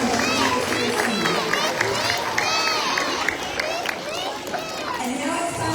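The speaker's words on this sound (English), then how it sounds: "Let's give her another round of applause as she takes her seat." Applause and cheering from a school assembly crowd of children and staff fill the space, with shouts and voices mixed throughout, loud and close.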